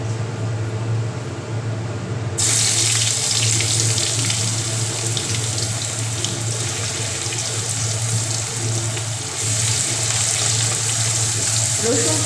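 Garlic paste hits hot oil and fries with a loud, continuous hiss that rises sharply after a couple of seconds and keeps crackling steadily in a home kitchen.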